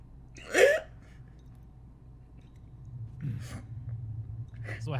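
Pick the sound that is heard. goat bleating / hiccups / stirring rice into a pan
hiccups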